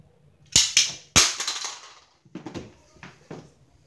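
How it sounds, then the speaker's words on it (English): Several sharp, bang-like gunshots: two loud close cracks, then a scattering of quicker, quieter pops trailing off. "gunshot"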